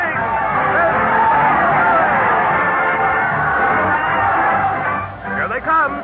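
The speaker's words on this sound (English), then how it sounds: "Let's join the happy crowd" Happy crowd cheering and chattering at a parade in an old radio show, a dense, steady murmur of many voices with scattered whoops, heard through a thin, band-limited broadcast sound.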